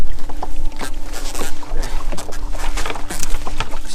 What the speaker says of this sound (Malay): bagi yang belum pernah dengar bunyi udang